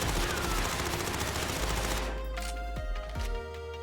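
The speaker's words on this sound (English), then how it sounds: "this is the recoil pattern for the Cold War MP5" A Cold War MP5 submachine gun emptying a 30-round magazine in Warzone, a loud, dense automatic burst of rapid shots that runs for about three seconds and then cuts off, leaving a short metallic tail.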